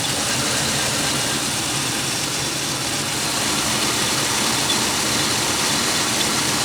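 Pontiac Aztek engine idling steadily while warming up, a dense continuous rumble with a thin high squeal from a worn belt tensioner running through it, loud and close with no pauses.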